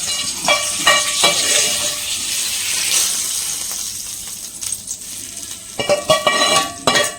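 Hot tempering (thalippu) sizzles as it is poured into kala chutney, giving a steady bright hiss with clinks of a ladle and pan near the start and end.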